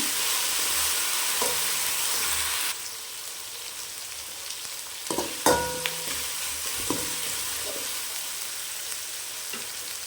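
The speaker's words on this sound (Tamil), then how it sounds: "வதக்கி விடுங்க" Ingredients for a country chicken curry, with paste and a little salt, sizzle steadily in a pan. The sizzle is louder at first, then settles quieter, with a few close scraping stirs in the middle.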